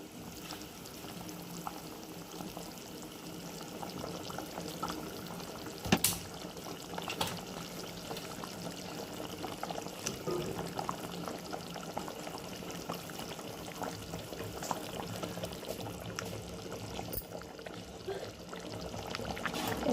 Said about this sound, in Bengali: ঝোল ফুটে আসছে, এবারে আমি এক এক করে মাছের পিসগুলো দিয়ে দেবো।